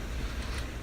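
Gusty outdoor wind buffeting the microphone, a steady low rumbling roar with broadband hiss that fills the whole moment at moderate level, no voice over it.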